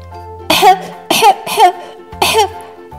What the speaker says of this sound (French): j'entends que tu tousses, en effet